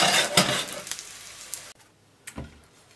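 Beef mince dish finishing off in hot oil in a pan, a steady close sizzle with a few sharp spattering bursts, briefly dropping quieter before another crackle.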